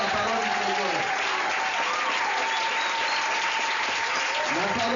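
A church congregation applauds loudly and steadily, a dense wash of many hands clapping with cheers and voices mixed in throughout.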